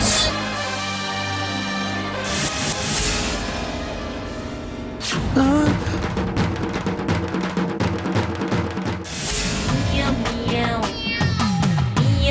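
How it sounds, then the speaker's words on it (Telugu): A cat meows repeatedly in a Telugu TV serial scene. Loud, drawn-out wavering cries come one after another, closely spaced, over a busy background. "Pilli meow meow meow meow meow meow"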